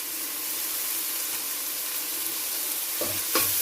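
Geera powder sizzles steadily in a hot frying pan as it is stirred, a constant hiss with a couple of louder scraping stirs near the end.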